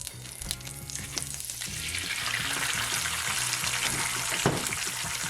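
An egg frying over easy in a pan, a steady bright sizzle that swells and holds, with a few clinks and knocks near the start and a sharp tap toward the end.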